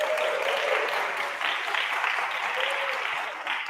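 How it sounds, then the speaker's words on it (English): A room full of people applauding the vice president at a rehearsal gathering, a dense, steady clapping wash that stays loud and even for several seconds before easing slightly. "Give a round of applause."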